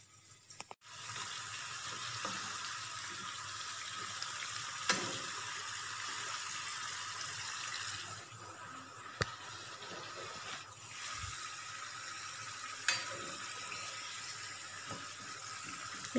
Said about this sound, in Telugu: ఇలా 2 వైపులా బ్రౌన్ కలర్ వచ్చేంత వరకు వేయించుకున్న తర్వాత